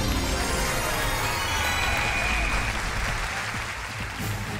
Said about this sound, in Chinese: 我们掌声鼓励他们四位。